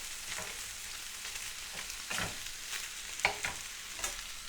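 Meat browns steadily in a hot pan, sizzling, with a few scrapes and stirring clatters rising over the frying hiss.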